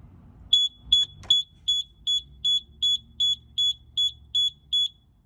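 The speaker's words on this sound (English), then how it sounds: "push these two buttons, set open and set close at the same time, and then hold them closed until you hear beeps." A LiftMaster LA400 gate opener control board emits a run of about eleven evenly spaced high electronic beeps while being programmed, preceded by a few clicks as buttons are pressed and held, close and clear.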